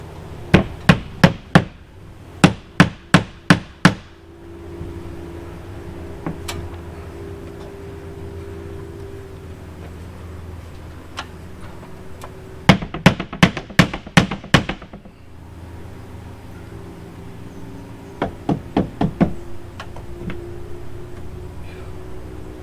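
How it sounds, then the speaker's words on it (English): Hammer blows drive nails into T1-11 siding on a shed, coming in three quick bursts of sharp, evenly spaced strikes with quiet pauses between, close and loud over a low background hum. "I'm gonna get this nailed on."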